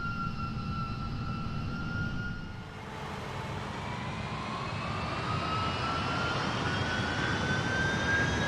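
Airbus A340 auxiliary power unit running in the X-Plane 12 flight simulator, a steady jet whine and roar with rising tonal hums, continuous and fairly close with no talk.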